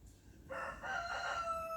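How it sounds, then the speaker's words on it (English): A rooster crows in the background, one harmonic cock-a-doodle-doo that starts about halfway in and holds steady and fairly loud to the end. There is no talk. "Sorry about the chicken in the background"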